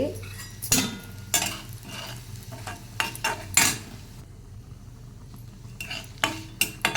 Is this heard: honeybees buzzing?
no